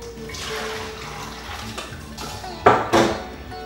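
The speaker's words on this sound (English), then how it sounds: "now that your rice has soaked for half an hour, you're gonna strain it in one of these things" Water pours and splashes through a strainer as soaked rice is drained, with metallic clinks and rattles, ending in two louder bursts of rushing water.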